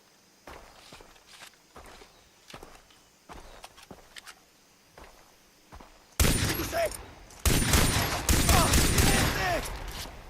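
Far Cry 3 jungle combat: soft footsteps and scattered faint shots give way to loud, dense bursts of automatic gunfire in the second half, close and sustained.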